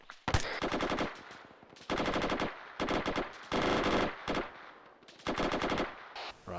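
Bursts of automatic gunfire during a military base defence training exercise: several loud, close rattling volleys broken by short pauses, with no talk over them.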